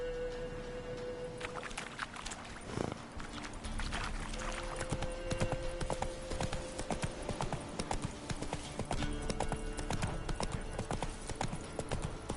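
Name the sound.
horse Roach walking, hooves clip-clopping, in The Witcher video game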